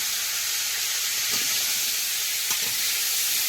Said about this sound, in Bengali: এর মধ্যে এই তেলের মধ্যে একটু গোটা জিরে দেবো, পেঁপে আর আলুটা দেবো